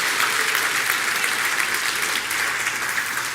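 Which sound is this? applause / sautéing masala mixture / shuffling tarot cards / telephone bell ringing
applause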